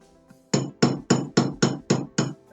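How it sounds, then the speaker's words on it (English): Brass hammer tapping a pin into a CZ75B pistol, seven sharp metallic taps in a steady even rhythm, close and clear with a quiet room behind. "And this is a brass hammer,"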